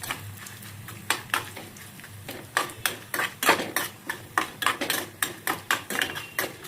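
Spices and dried red chillies sizzle faintly in a pan for tempering while a utensil clanks against the metal in a quick, steady rhythm of repeated taps.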